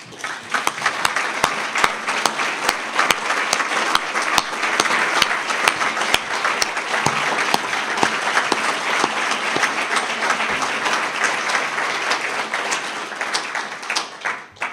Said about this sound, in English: I want you to stand up and take a round of applause.